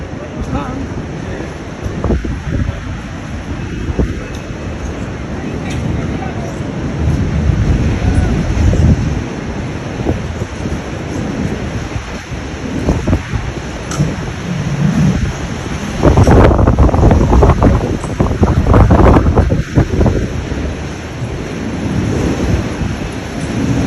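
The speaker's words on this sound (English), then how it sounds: "The wind too very too strong." Strong wind in Cape Town buffeting the microphone in heavy, uneven rumbling gusts that swell loudest toward the latter part, with no voices over it.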